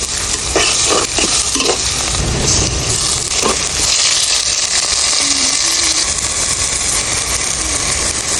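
Onions fry in hot oil in a pan, a loud, steady sizzle close by with occasional stirring scrapes and clatter throughout, no one speaking.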